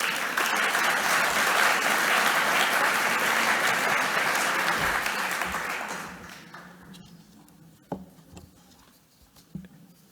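A large audience applauds warmly to welcome the university rector at a formal Spanish-language conference opening. The clapping is dense and sustained, then thins out and fades to scattered claps and small noises.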